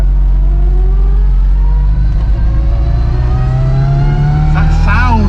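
Classic Mini with a 1380cc engine and straight-cut gears revving hard while driving, a loud close engine drone rising steadily in pitch with gear whine, under excited talk.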